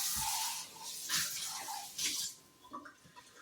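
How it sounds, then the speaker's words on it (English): Water splashing and pouring as a container is rinsed out in a well-water home, several close gurgling bursts with brief pauses between them. "I'm gonna rinse this out."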